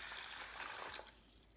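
Water pours from a container into a large cooking pot, a quiet continuous splashing fill that tapers off near the end, with no talking.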